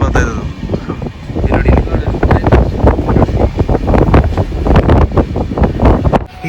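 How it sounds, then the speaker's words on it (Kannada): Strong, storm-like gusts in a very windy area buffet the microphone with loud, rumbling, uneven blasts throughout, with a voice partly buried beneath them. "ಈ ಏರಿಯಾದಲ್ಲಿ ಬೇಜಾನ್ ಗಾಳಿ ಇದೆ"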